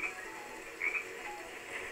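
A frog in the video game Sonic Heroes gives a couple of croaks over a soft ambient background, moderately close and clear.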